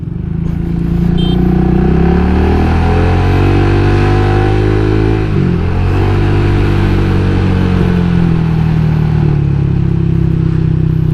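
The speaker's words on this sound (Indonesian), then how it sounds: "Kalian mungkin bisa dengar kali ya, ini benar-benar motor rasanya kayak traktor gitu" An automatic scooter-style motorcycle running an experimental replacement engine idles and revs with a rough, tractor-like rumble and heavy vibration, loud and close throughout, the pitch sagging and recovering midway.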